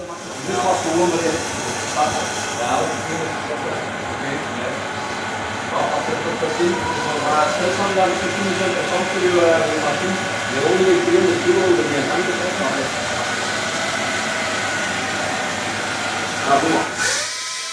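A 20 HP electric Sur-Ron motorbike on 12-inch tires runs at full throttle on a dyno, giving a sustained, steady whine with hissing layers that holds for nearly the whole stretch before a brief surge near the end.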